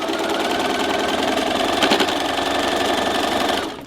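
A sewing machine stitches pot holder pieces together in one continuous, fairly loud run of rapid needle chatter that eases off just at the end.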